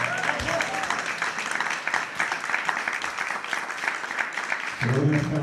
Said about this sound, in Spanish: Un aplauso para esta chica guapa